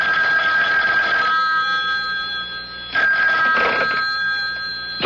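A telephone rings in a radio mystery drama, a public phone being called: a steady electronic bell tone in repeated bursts, loud and close, with no voices.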